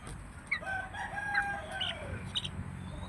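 A rooster crows nearby, its drawn-out call rising and falling over a steady low background rumble, with a second shorter call near the end.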